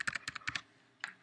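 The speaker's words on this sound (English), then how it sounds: "type it, the password," Keys clatter on a computer keyboard as a database password is typed for phpMyAdmin, a quick burst of several close, crisp keystrokes, a pause, then a couple more taps.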